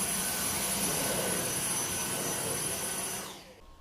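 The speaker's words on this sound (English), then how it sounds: "Hoovering to be done." A vacuum cleaner hoovers indoors with a loud, steady roar close by for about three seconds, then winds down and cuts off near the end.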